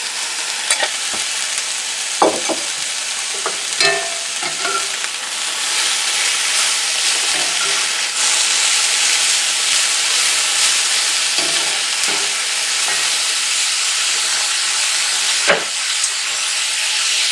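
Thinly sliced steak sizzles loudly and steadily in a hot pan alongside softened peppers and onions, a continuous hiss with occasional sharper crackles and stirring scrapes near the start.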